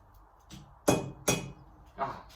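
A small metal bar piece is dropped onto an anvil, giving two sharp metallic clinks close by, followed by a softer knock.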